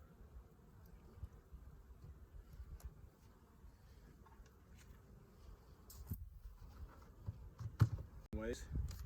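A steady low buzzing of many honey bees at a healthy, full hive fills the scene, with soft rustling and a few louder knocks near the end.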